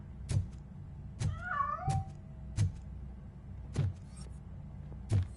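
A cat meows in the video game Robocop Rogue City, rising and wavering calls heard alone among a steady pattern of loud, evenly spaced thuds and faint mechanical hum.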